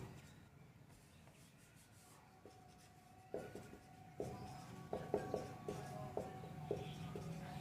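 Pen writing out a reasoning question on a board or paper during an online class, faint scratchy strokes building into a series of louder taps and marks toward the end, quiet and close with no talking.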